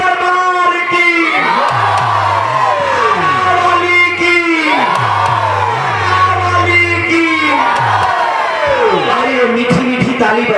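A large crowd at a Bhojpuri birha devotional performance chants a slogan in unison, loud, rhythmic repeated group calls that rise and fall in waves over a steady low drone.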